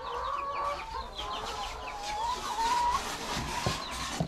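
Young laying hens cluck and murmur continuously at close range on a farm of about 160 birds, with drawn-out, wavering calls rising over a busy flock.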